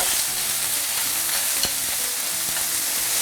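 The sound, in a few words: chicken breast frying in a pan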